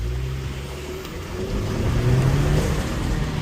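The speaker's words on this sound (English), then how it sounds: "see that turbo just kick in?" A 2026 Chevrolet Colorado Trail Boss with its turbo engine pulls away from a stop off-road, a steady engine drone that swells louder partway through as the revs climb, close by with no talk.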